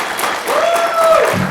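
Students in a lecture hall clap, a steady wash of applause from a class with a faint tonal whine running through the middle and a low thump near the end.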